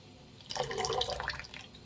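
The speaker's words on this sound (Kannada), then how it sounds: "ಗಟ್ಟಿ ಇದ್ರೆ ನೀರು ಹಾಕ್ಕೊಳ್ಳಿ" Water pours and splashes into a vessel of ground rice batter being thinned for rice papad, a moderate trickling burst that starts partway in and runs to the end with no talking.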